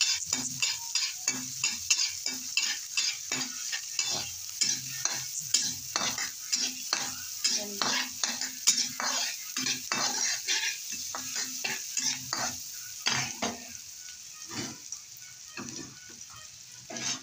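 Onion sautéing in dairy cream in a pan, stirred with a utensil: steady close sizzle under a dense run of rhythmic scraping and clinking strokes against the pan, with no talk.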